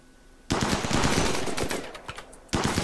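Defensive turrets in Rimworld fire a rapid, loud automatic burst at raiders, sustained for about two seconds, stopping briefly, then starting again.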